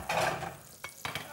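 Food stirred in a hot pan sizzles briefly in a TV kitchen, a short burst of frying hiss followed by two quick scraping stirs.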